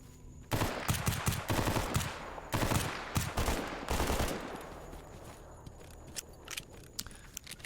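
Rapid bursts of automatic gunfire crackle in the Stalker Gamma video game, loud and close in dense volleys for several seconds, then thinning to scattered single shots and distant pops.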